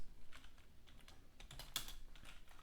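Keys clicking on a computer keyboard at a steady typing pace, a run of light close taps with one sharper strike partway through, no voices.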